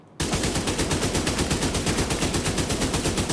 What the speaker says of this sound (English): And it is shooting really slow, but because it's shooting so slow, I can handle it very well.